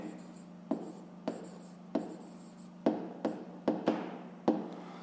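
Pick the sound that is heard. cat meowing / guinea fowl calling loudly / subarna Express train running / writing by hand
writing by hand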